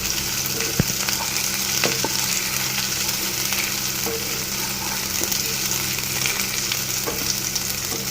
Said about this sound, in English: After adding green chili and ginger garlic paste, we need to mix it well, and little bit we need to make it roast